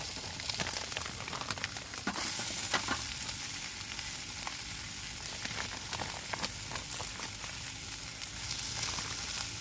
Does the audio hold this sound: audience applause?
no